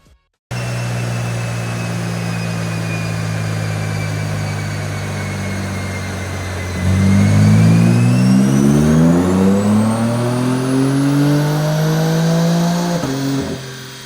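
A tuned car engine with BootMod3 flex fuel on its higher octane map held at a steady drone on a dyno, then revving up hard through a rising pull before cutting off, loud and close.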